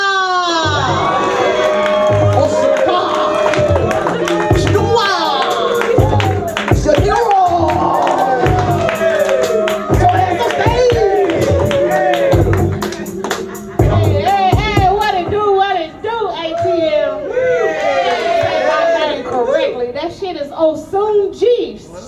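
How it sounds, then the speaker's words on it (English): Loud crowd at a live comedy show cheers, whoops and claps for a comedian being brought on, a dense sustained roar of voices and applause that keeps going with shouts rising above it. "I need y'all to clap real loud"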